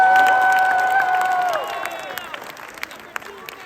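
Audience at the closing of an anime convention cheering and applauding loudly at first, the crowd noise then fading into scattered claps and shouts.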